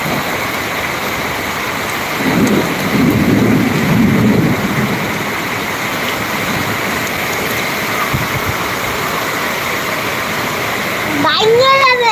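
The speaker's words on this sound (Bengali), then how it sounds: "দেখো ওই দিকে কিচ্ছু দেখা যায় না এত পরিমাণে বৃষ্টি হচ্ছে" Steady heavy rain roars throughout on a waterlogged street in strong wind, a dense wash of noise with a louder surge early on; no thunderclap stands out.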